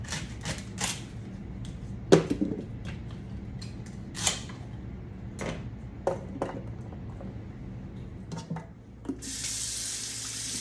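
Tap water runs steadily into a sink while organic celery is rinsed by hand, with splashing and clattering as the stalks move under the stream, then a louder, fuller gush near the end.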